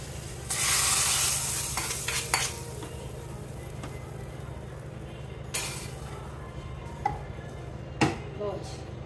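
Sambar tempering sizzles in a hot pan, a burst of frying hiss at the start settling into a low crackle, punctuated by stirring scrapes and a few sharp metal clinks of utensils against the pot.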